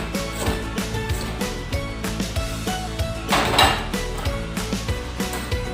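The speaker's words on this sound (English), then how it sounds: "First, slice the ginger, or it can be crushed. Then slice the galangal." A knife slicing ginger and galangal on a cutting board, a run of sharp, evenly spaced chopping knocks, close and crisp, with a louder scraping clatter partway through and no talk.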